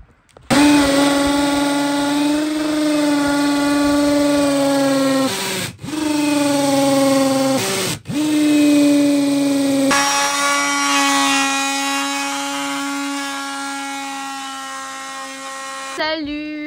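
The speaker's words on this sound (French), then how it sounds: "C'est bon, Seb, il est chaud patate, là, il a sorti la perceuse." A power drill whines at a steady pitch during a van conversion, running in long bursts with two brief stops and restarts, close and loud.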